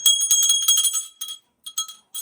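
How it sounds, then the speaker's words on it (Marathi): Small hand bell rung at a home shrine during a family visit to a village house in Maharashtra, a bright rapid jingling that comes in quick bursts separated by short silences, close and clear. "बेल."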